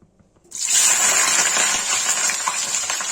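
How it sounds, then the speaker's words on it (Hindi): Boiled cauliflower and potato pieces drop into hot oil after a quiet moment, setting off a sudden loud sizzle that stays strong and steady to the end. "तेल गरम हो गया है, इसमें डालेंगे गोभी आलू।"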